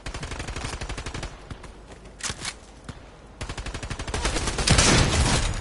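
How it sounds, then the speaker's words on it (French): Rapid bursts of video game gunfire, including automatic weapon fire, crackle through a Fortnite-style Gold Wars battle royale match, loud and near with brief pauses between volleys and a heavier barrage near the end. "y'a un mec qui tire où je suis là?"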